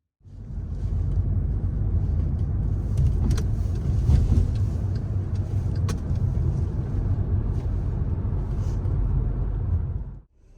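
A car drives along steadily with a low, continuous engine and road rumble from inside the cabin, faint clicks over it, fading out at the end.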